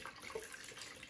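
Water poured from a container into a bowl for foot washing, a soft, steady trickling splash heard faintly and alone.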